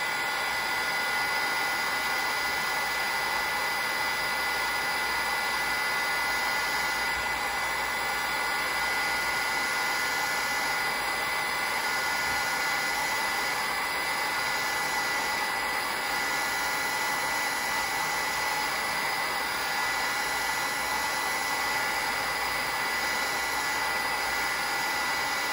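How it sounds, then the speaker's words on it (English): A heat gun blows steadily over a card for heat embossing, giving a continuous loud whooshing roar with a faint motor whine that holds unbroken throughout, with no talking. "I'm just gonna take my heat gun and"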